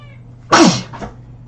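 A cat gives a single loud, strained yowl or meow up close, a sharp burst with falling pitch, then a fainter second cry, heard during a craft-themed livestream with no talking in the clip.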